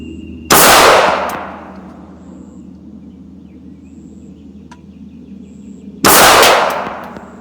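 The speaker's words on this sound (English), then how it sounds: "I'll start with the LCP II. I'm going to shoot at the lower left. And this is with CCI Blazer brass." Two sharp, loud shots from a Ruger LCP II pistol firing CCI Blazer brass ammunition, about five and a half seconds apart, each with a quick fading tail and quiet background between them.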